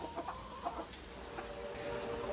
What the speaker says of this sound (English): I love silky chickens.